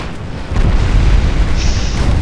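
Torpedoes from a naval warship game hit home as a deep, rumbling explosion that swells after a short lead-in and keeps roaring low and loud, with a thin tone rising briefly above it.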